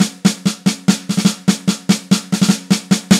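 A snare drum plays the tumble dryer fill in steady triplet-based groups with quick sixteenth-note doubles. Sharp, bright hits ring close and loud on their own, with no talk.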